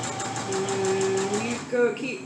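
Sewing machine back stitching the start of a seam on a fabric face mask: a steady, fast mechanical whirring and rattling stitch sound, close up, with a person talking over it.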